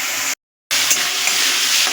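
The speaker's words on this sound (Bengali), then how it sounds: "গ্যাসটা বাড়ানোর পর আর 1-2 মিনিট একটু নাড়াচাড়া দিয়ে এটাকে ভেজে নেব" Bottle gourd stirred and fried in a pan over a raised gas flame, a steady loud sizzle with scraping stirs, broken by a short silent gap before the frying noise resumes.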